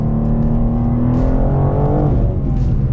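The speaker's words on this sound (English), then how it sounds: "Clutch in, down to second." The engine of a BMW G87 M2 with a manual gearbox revs loudly and close up as the driver clutches in and downshifts to second, a sustained rising-and-falling engine note filling the whole stretch with no talk.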